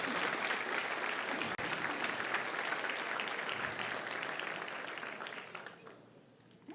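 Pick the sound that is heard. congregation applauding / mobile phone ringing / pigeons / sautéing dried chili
congregation applauding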